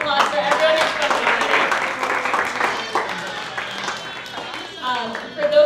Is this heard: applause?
yes